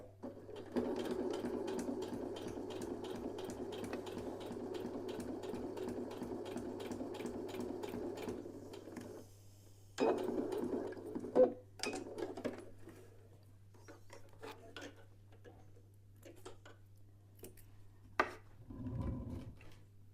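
A sewing machine runs a row of stitches across a fabric pointy bookmark with a quarter-inch seam, a fast close whirring patter that stops and restarts in short bursts, followed by quieter handling clicks and a brief thump.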